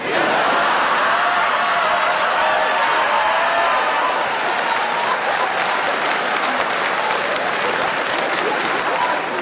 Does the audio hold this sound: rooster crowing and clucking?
no